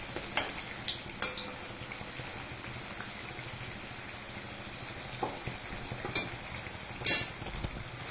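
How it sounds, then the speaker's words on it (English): Raw banana fritters frying in hot oil on a medium flame, a soft steady sizzle with occasional brief crackles and pops, close and fairly quiet throughout with no talking. "Fry this till it is golden brown and fry this on the medium flame."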